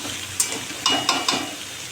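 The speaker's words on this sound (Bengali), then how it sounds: "এখন বসালাম পেঁপে আলু তরকারি এর মধ্যে জিরে ফোড়ন দিয়েছি তেজপাতা শুকনো লঙ্কা" Papaya and potato curry frying in a pan with cumin, bay leaf and dried chilli, a steady soft sizzle with a few brief stirring scrapes, close and alone without talk.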